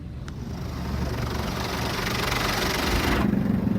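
A Mark VII ChoiceWash XT automatic car wash at a Shell car wash in Keswick runs its soft wash pass, a steady loud broadband spray and machine drone with a low motor hum that stops abruptly near the end.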